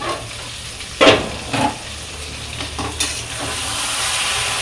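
Meat and chutney cook in a pan, a steady close sizzle and bubbling boil broken by a few sharp clatters of a spoon stirring the mix.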